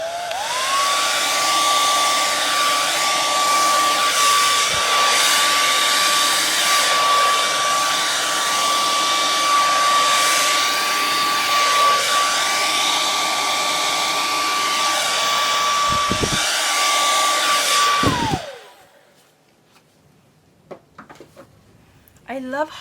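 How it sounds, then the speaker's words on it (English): Hair dryer blowing air across a Dutch pour painting on a recycled canvas, a loud steady whine running for about eighteen seconds before it cuts off, followed by faint handling noises. "Okay, let's give it a try with a hairdryer."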